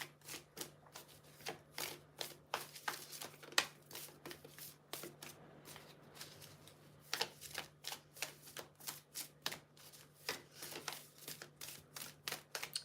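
Tarot cards being shuffled by hand, a long run of quick riffling bursts in an uneven rhythm, close and fairly quiet, with no talking.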